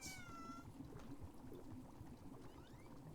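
A cat meows in the video game Wanderstop, one clear rising-falling call at the start, followed by faint bubbling like steaming water and a softer second mew near the end, all quiet.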